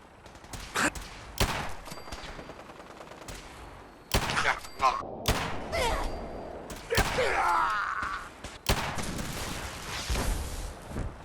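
Gunfire in the Fallout 4 video game: repeated sharp shots and bursts of automatic fire, loud and close, with rapid volleys broken by brief gaps and a distorted robotic voice calling out between them.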